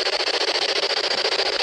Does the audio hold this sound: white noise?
yes